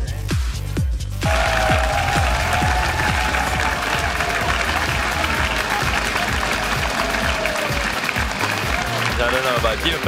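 A live esports audience at the 2014 EU LCS Summer season claps and cheers in a steady, dense wash of applause, with speech heard over the crowd noise.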